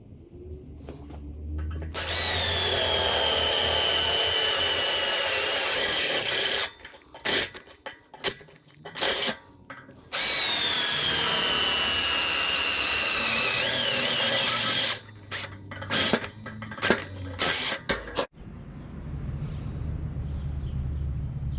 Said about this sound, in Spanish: Vamos a agregar agujeros acá, a ver si podamos lograr el efecto que yo quiero.